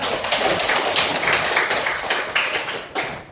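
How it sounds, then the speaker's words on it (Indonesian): A class of students claps together at the start of a lesson: dense, continuous group hand clapping that holds steady throughout with no pauses. "Kita tepuk tangan untuk kita semua."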